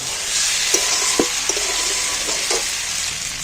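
An egg, cauliflower and potato mixture is sautéed in a pan, giving a loud, dense frying sizzle up close, punctuated by several brief scraping knocks as it is stirred.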